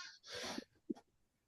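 A sharp, close sneeze bursts out loudly, followed moments later by a second shorter burst, then quiet.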